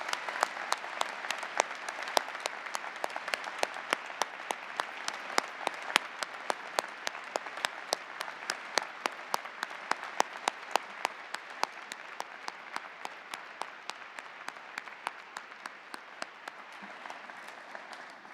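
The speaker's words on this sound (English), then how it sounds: "Please help me give him another round of applause." Sustained audience applause at a University of Alberta spring convocation ceremony, dense steady clapping filling the hall for about eighteen seconds with no voices over it.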